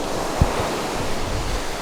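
Ocean waves washing onto Mooloolaba Beach on Australia's Queensland coast, a steady broadband surf wash with wind rumble on the microphone and one brief low thump, close by with no voices.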